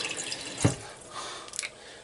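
Water runs from a tap into emptied spaghetti sauce jars to rinse them, a brief splash and gurgle with a couple of small drips afterward, close and fairly quiet.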